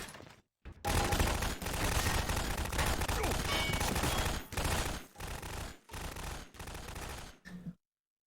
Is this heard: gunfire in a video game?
yes